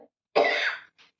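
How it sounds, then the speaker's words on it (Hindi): A single loud, harsh cough bursts out close to the mic and lasts about half a second, followed by silence and a faint trailing breath. "आज तो मुझे ब्लॉग बनाते-बनाते ही बहुत तेज़ खाँसी आ गई"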